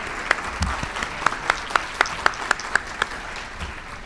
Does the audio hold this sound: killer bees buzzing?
no